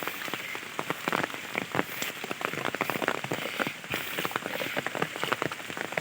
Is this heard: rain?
yes